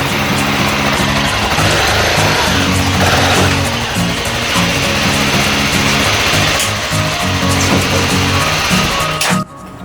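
A BMW F650 motorcycle engine idling and revving while the bike rides onto an HBM Machines motorcycle lift in a workshop, a loud continuous throbbing drone that cuts off abruptly at the end.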